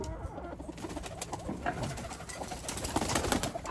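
Pigeons, including king pigeons, coo softly in low, throaty murmurs, several birds overlapping amid shuffling and rustling nearby.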